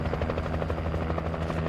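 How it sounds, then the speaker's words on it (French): A helicopter in the Alan Wake video game thrums steadily with rapid rotor chopping pulses, a continuous buzzing drone at moderate level. "Tu peux avancer avec ton hélicoptère"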